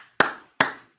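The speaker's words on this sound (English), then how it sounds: "Non-sarcastic clap." Sharp hand claps ring out in a quiet courtroom, three crisp, close strikes spaced about 0.4 seconds apart, each with a short decay and no talking in between.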